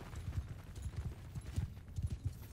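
Faint, steady clip-clop of horse hooves in Mount & Blade II: Bannerlord, a rhythmic trotting patter under distant battle ambience.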